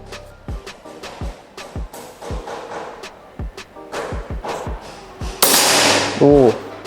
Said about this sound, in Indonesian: Kena ya untuk tembakan yang pertama.